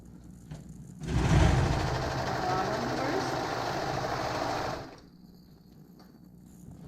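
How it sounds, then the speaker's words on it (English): A serger sews stitches on a cardigan, starting abruptly with a loud mechanical whir that runs steadily for about four seconds, then stops, leaving quiet room noise. "I do 3 different stitches because I'm doing it on a serger"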